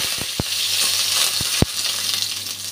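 Bay leaf and dried chili sizzling in hot oil for a ridge gourd and potato dish, a bright, close crackle with a few sharp pops and scrapes of stirring.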